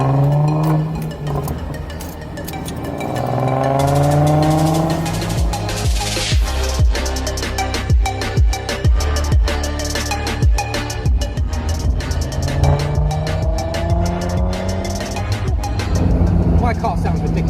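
A Nissan 370Z Nismo drives on the road, its engine droning and then revving hard with rising pitch. Sharp exhaust crackles and pops follow, and a second climb comes later. The car sounds loud and close, with a person talking at times.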